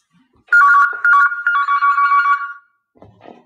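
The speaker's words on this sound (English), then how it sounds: "Oh no, my phone's ringing." A mobile phone ringtone plays loudly in a repeating melodic pattern for about two seconds, then stops, followed by a brief faint rustle.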